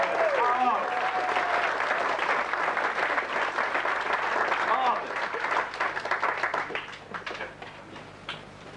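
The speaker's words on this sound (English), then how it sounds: "A big round of applause, please, for them all." Audience at a Bristol pantomime applauds the contestants with loud, sustained clapping and some cheers, tapering into scattered claps toward the end, with voices mixed in.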